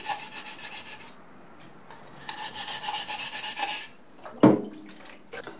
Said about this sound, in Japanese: このサンドペーパーかけるの結構大変だというふうにネットでは出てましたけど意外と簡単にきれいになりますね